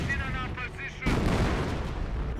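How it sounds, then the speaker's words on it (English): A 25 pounder artillery gun firing in the Company of Heroes game, a heavy booming blast with a rumbling tail over battlefield noise and a faint tonal sound just before. "Oh, we got some artillery in over here, looks like."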